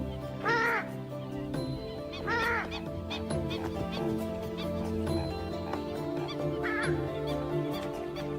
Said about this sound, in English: This is the purple swamp hen, also called the sultana bird, famed for its very loud, explosive call.